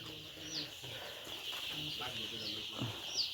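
Five-day-old broiler chicks let out a few high, thin peeps, scattered over a soft background hum while a person talks nearby.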